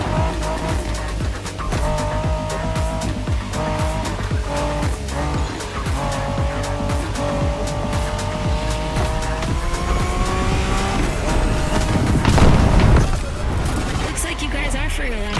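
Race cars in The Crew Motorfest roar through a loud, steady engine drone with rising and shifting gear tones, tire squeals and a burst of louder noise near the end, with game speech over the top.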